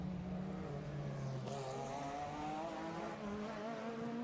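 A Porsche 911 GT race car runs on a street circuit at the Remparts, its engine droning and shifting pitch through gear changes, fairly distant and faint, with no voices.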